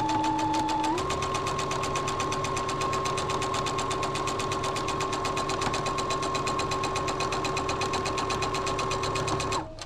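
A sewing machine stitching quilt seams runs steadily at close range, a continuous even mechanical whir with a rapid needle rhythm that rises slightly in pitch after a second and cuts off at the end.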